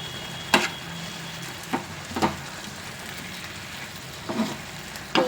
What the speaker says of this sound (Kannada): ಚೆನ್ನಾಗಿ ತಿರ್ಗಿಸ್ಕೊಳ್ಳೋಣ.